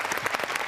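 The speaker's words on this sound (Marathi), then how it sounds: "आपण जोरदार टाळ्या वाजून त्यांचं स्वागत करूया." A crowd applauds to welcome a guest onto a Marathi comedy stage show, a brief burst of dense, lively clapping from many hands, fairly loud and continuous through its short span.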